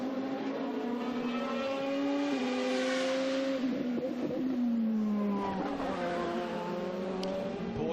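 A Toyota endurance race car pulls out of the pits at a WEC qualifying session in Sao Paulo, its engine note climbing through rising, shifting harmonics, loud and steady with other cars audible behind.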